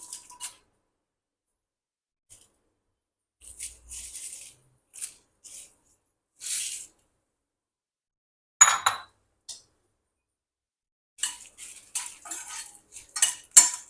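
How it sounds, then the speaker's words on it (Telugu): Dried red chilies clatter against a pan as they are stirred and dry-roasted with a teaspoon of oil for a Telangana-style chennangaku chutney, in scattered bursts of scraping and clinking separated by quiet gaps. "ఇప్పుడు మనం ఎండుమిర్చి వేసేసుకుందాము"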